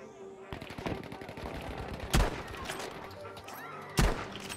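Rapid automatic gunfire from a Battlefield V match, with dense bursts of shots continuing throughout and two louder, sharper blasts standing out near the end, loud and close.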